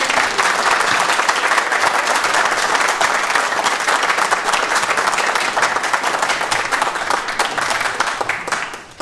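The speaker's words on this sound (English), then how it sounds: "let's have one last round of applause please for all of you" Sustained applause from an audience at a City of Liverpool College University Centre graduation ceremony, dense steady clapping of many hands that holds loud throughout and tapers slightly at the end.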